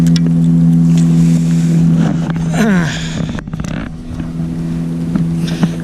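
A motorboat engine drones loudly as it passes close by on a lake or river, its steady hum swelling and fading with some wind noise.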